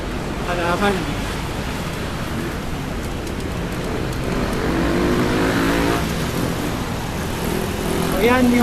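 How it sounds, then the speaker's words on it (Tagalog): Continuous roar of heavy road traffic with many vehicles passing, recorded from a moving elevated LRT-1 train, broad and steady with a rising whoosh near the end, while a person talks. "Maraming sasakyan."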